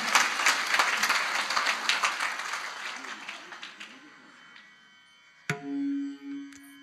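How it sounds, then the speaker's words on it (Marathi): At a kirtan, the audience applauds the children. The clapping is quiet and fades away over a few seconds, and then a brief voice or tone is heard. "या लेकरांसाठी एकदा टाळ्या वाजवा जोरदार."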